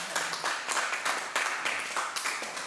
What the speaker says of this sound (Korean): 우리 한번 박수 한번 부탁드리겠습니다.